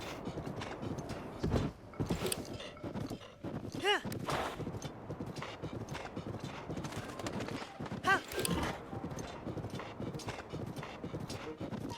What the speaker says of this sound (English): This ain't my horse, but I'll ride it anyway.